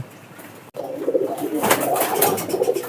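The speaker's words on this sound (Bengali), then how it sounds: "বিভিন্ন জাতের কবিতর আছে যেমন গিরিবাজ আছে দেশি আছে বিভিন্ন রকমের কবিতর এখানে আছে" Pigeons, including Giribaj and local breeds, coo on a pigeon farm; a soft, steady murmur of cooing fills the background, rising in density after a brief gap early on, with no talk.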